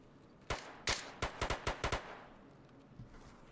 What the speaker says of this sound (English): you heard the popping of gunfire